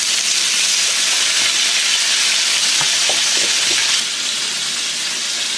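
Pork belly searing in a hot pan in a Chinese restaurant kitchen, seasoned with salt and soy sauce, giving a loud, steady sizzle and hiss with a few faint stirring clinks.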